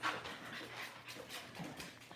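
American bully dogs pant in steady, quick breaths close by, with faint whimpering mixed in over a low indoor hum.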